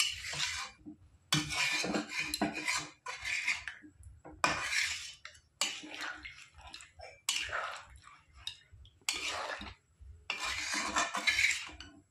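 Metal clatter of a pot and lid while chicken simmers without oil, several bursts of clinking and scraping separated by short quiet gaps, fairly faint and close.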